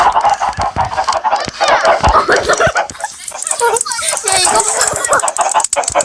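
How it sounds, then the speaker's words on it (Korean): Chickens in the Minecraft video game cluck repeatedly in short, choppy bursts, loud and busy, mixed with people talking and laughing over the gameplay. "어느 나날 닭이 쫓아오고 있어."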